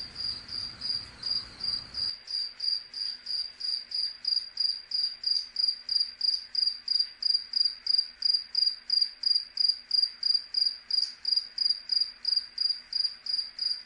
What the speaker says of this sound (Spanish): Vamos a descargar un sonido de grillos.